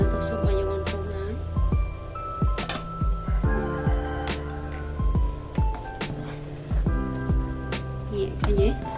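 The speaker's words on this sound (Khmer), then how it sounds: "ចឹងយើងស្ងោរវាពុះ" Pork and vegetable soup boiling in a pot gives a steady, close bubbling crackle with scattered pops, running the whole time over a faint tonal hum.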